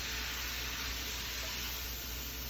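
Ham, carrot, onion and celery browning in a soup pot give a steady, quiet sizzle that holds evenly throughout, with no voices.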